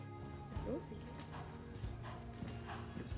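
A horse trotting and cantering in a riding lesson, hoofbeats clopping in an uneven rhythm at moderate distance beneath steady background noise, with voices present.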